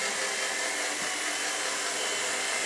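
Rotary polisher with a wool pad spreading compound on low speed over bus bodywork, a steady, even whirring hiss that holds constant and close throughout with no talk.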